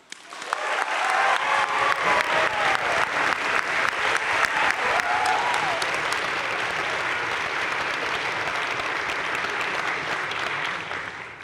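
An audience at an honors convocation breaks into loud, sustained applause after award recipients are read out, dense clapping that swells quickly and holds steady before easing off at the end.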